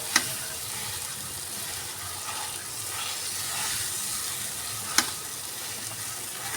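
Spiced mashed potato filling for a semolina-and-potato snack sizzles steadily in a pan, a continuous close hiss broken by two sharp clicks of a spoon against the pan, with no talking.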